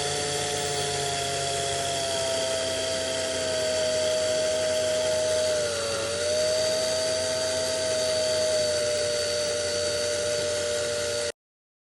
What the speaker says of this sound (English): I'm going to take a sanding stick. And this is like a tri-grit